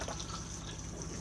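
A cassette toilet flushes inside a 2018 Benimar Mileo 323 motorhome, giving a steady close rush of running water that fills the bowl evenly with no pauses, quiet overall and with no voices.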